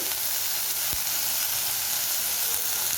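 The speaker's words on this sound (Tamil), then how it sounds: "பச்சை மிளகாய் கொஞ்சோண்டு ஜி எல்லாம் சேர்த்து வதக்கிக்கலாம்" Green chilies sautéing in a pan with a steady, close sizzle and hiss of hot oil, continuous and even throughout, while a Vallarai Keerai (Brahmi) thuvayal is made.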